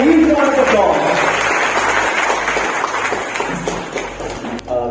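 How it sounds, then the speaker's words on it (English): An audience at a university workshop breaks into applause, steady close clapping that fades toward the end, with a voice talking over it at the start. "give a huge round of applause"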